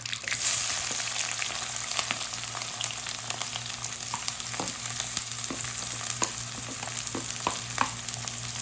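Curry leaves and sliced onion frying in oil for a potato curry: a steady, close sizzle with scattered stirring scrapes throughout, a low steady hum beneath, no talking.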